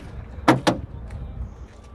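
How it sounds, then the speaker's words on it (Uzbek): A car door is opened at an outdoor used-car market: two quick, solid metallic clunks close together, followed by a low, quiet background rumble. "Eshiklar shukalari orqasini ozgina ochib ko'ramiz."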